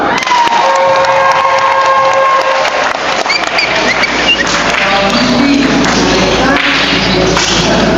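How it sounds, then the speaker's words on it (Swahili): A church congregation breaks into loud applause and cheering, dense clapping mixed with shouts and whoops that fill the space continuously, some children's voices rising above the crowd near the end. "Makofi tafadhali."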